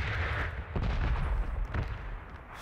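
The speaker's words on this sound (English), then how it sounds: "Did I just hear a gunshot?" Gunfire in PlayerUnknown's Battlegrounds booms repeatedly as heavy, rumbling reports, with a couple of louder shots standing out over dense, noisy in-game ambience.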